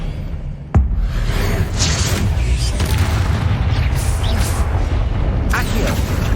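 An Expelliarmus spell effect goes off in a Harry Potter video game as a sudden sharp crack and boom, followed by a sustained loud rumbling roar with whooshing bursts.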